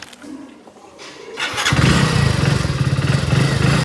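A motorcycle engine cranks and fires up, settling into a loud, steady, throbbing idle close by.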